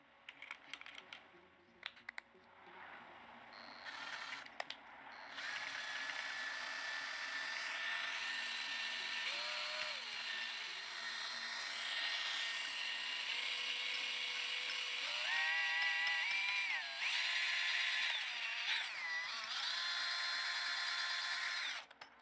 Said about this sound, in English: Let's try a drill.